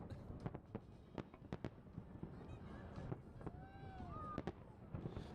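Smiley-face fireworks burst in a rapid series of sharp, booming cracks with a few rising whistles, heard over steady background noise while people talk.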